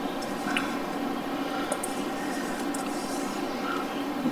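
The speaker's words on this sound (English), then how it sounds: "we're just going to put the rest of the marinade on here" Honey pepper marinade poured over salmon and vegetables on a sheet pan, a soft continuous wet squishing and dripping with faint light ticks, close and quiet.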